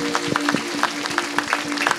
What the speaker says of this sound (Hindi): आइए हम प्रभु को धन्यवाद करेंगे, तालियां बजाते हुए जोर से।